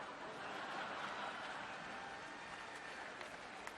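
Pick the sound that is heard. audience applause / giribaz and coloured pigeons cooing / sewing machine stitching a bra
audience applause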